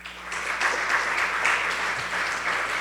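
A church congregation gives steady, fairly close applause for the Lord, a continuous wash of many hands clapping with little else heard.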